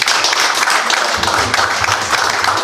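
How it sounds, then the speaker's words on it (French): Applause from an audience at a company sales-year launch meeting, steady close clapping from a group, with a low hum coming in partway through. "Je pense qu'on peut s'applaudir quand même."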